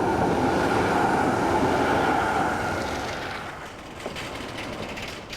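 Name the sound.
tram in Ghent, Belgium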